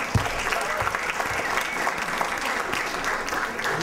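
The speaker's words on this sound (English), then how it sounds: "How about a little applause for Grandpa Fred?" An audience claps steadily in a room, a dense, even applause that holds at the same level throughout.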